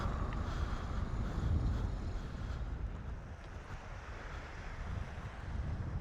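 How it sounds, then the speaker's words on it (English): Loud sea waves roll and crash continuously on a windy coast, with gusts buffeting the microphone into a steady low roar throughout. "I don't know if you can hear the waves because of my settings, but they are loud."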